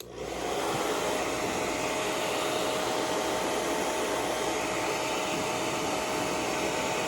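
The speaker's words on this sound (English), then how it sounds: "And then you can either let this air dry or you can blow dry." A hair dryer blows at a constant, loud whine and rush of air that stays steady from start to finish, with no voices.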